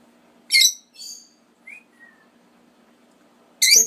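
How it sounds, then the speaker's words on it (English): A bird calls near the microphone in bright, high chirps and short whistles: two quick bursts early, a couple of thin whistled notes, then another loud chirp at the end over a faint low hum. "Isn't that a cool bird?"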